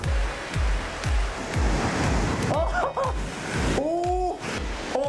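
Ocean waves crash rhythmically against rocks near a lighthouse on a Korean coastal trail, a loud, continuous roar of surf with repeated heavy thuds, and a voice speaks briefly partway through.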